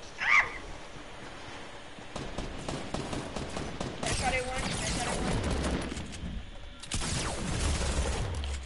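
Gunfire in a shooter video game: bursts of game shots blended with a busy, noisy game mix, with bright sharp cracks clustered near the middle and toward the end, under occasional shouting.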